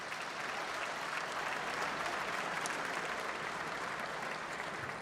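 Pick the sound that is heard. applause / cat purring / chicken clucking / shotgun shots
applause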